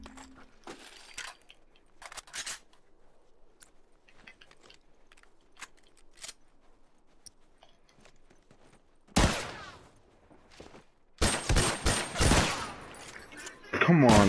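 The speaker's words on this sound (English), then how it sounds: "That's the Frontier Rifle, man. The Frontier Rifle is brutal." Loud bursts of Frontier Rifle gunfire in The Last of Us multiplayer, arriving as a few sharp, heavy blasts late in the stretch after quieter clicks and movement, with a player talking between shots.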